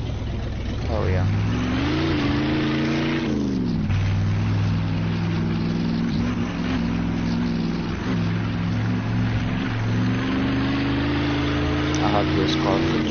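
A car engine in the video game Mafia II revs and roars steadily, pitch rising and dropping as it accelerates, with talking over the engine noise.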